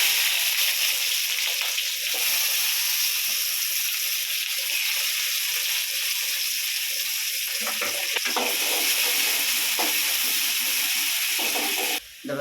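Mustard seeds and sliced onion frying in hot oil in a home kitchen pan while prawn thokku is cooked, giving a steady, close hiss and crackle that runs throughout with occasional faint stirring.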